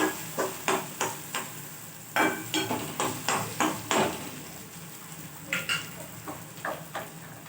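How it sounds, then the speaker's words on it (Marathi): Ground onion and coconut masala paste sautéed in hot oil in a pan, with a spoon scraping and stirring in repeated close, rhythmic strokes over a soft background sizzle. "त्यामुळे त्याला आता तेलामध्ये मी परतून घेते।"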